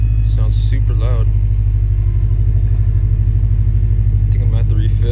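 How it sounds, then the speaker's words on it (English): A loud power steering pump on a 2012 Subaru with a leaking system runs as a steady, close engine rumble with a faint whine layered over it. A person speaks briefly near the start and again near the end. "So this morning, my power steering sounds super loud."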